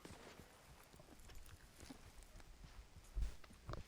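Horse hooves clip-clop in a video game, a sparse, soft pattern of steps with a heavier thud near the end, quiet and close.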